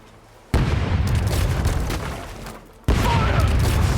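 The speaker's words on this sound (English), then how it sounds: "Ready? Fire!" Ship cannons fire in the naval combat game Rogue Waters: two loud, booming broadside volleys, one near the start and another about two seconds later, each followed by a rumbling tail.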